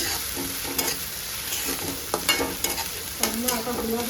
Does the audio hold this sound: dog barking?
no